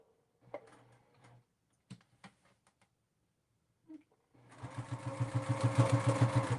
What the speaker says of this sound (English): I don't know how MINKI sews these straight lines